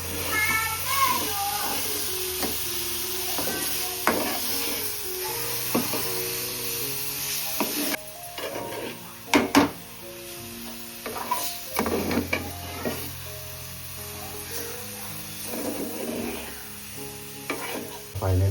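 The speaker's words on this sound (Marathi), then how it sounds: "फायनली आपला वाटण फ्राय झालेलं आहे मस्त." Ground masala paste with garam masala, coriander powder, turmeric and salt sizzles in a hot pan while a spoon scrapes and stirs it in steady, repeated strokes, with a few sharper clinks of utensil against the pan.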